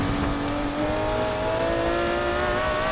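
In the Need for Speed Heat racing game, a McLaren F1 with upgraded parts roars at high revs, its engine tone climbing steadily and loudly without a break.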